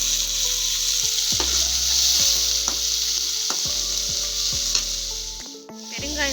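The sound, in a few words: small and big onions frying in oil with mustard seeds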